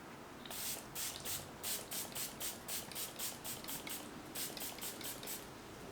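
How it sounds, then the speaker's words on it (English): Quick bursts of fine makeup setting spray misting onto a face in a rapid series of short pumps, close and fairly soft, with brief gaps between squirts. "I'm going to be trying out the Tarte Stay Spray Setting Spray. So I'm going to go ahead and set my face."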